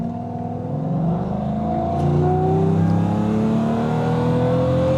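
A Jaguar XJ-S V12 engine revs up under acceleration, its pitch climbing smoothly and steadily as the loud, close drone builds with no talking.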